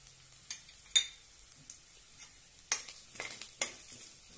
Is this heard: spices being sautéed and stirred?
yes